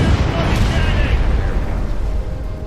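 Ship cannons firing in the VR naval combat game Furious Seas, a loud deep boom that rolls off into a rumbling decay.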